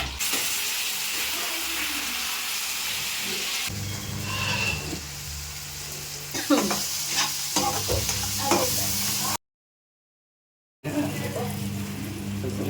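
Chopped onions and tomatoes sizzle loudly in a pan while being stirred, with scraping spatula strokes over a constant frying hiss and a short silent break near the end.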